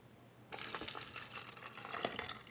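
A cup of ammonia, about 8 ounces, pours into a container in one steady, quiet splashing stream that starts after a short pause and runs for about two seconds.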